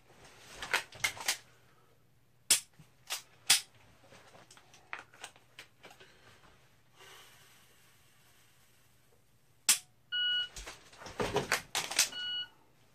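Handgun dry-fire tactical reload practice: scattered sharp metallic clicks and clacks of magazines and slide handling, spaced irregularly with quiet gaps and a faint steady hum underneath, with no speech.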